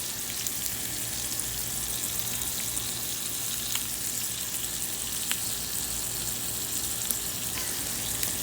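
A thick redfish fillet sizzles steadily on a hot grill, a dense, even crackle with small pops, constant and close throughout.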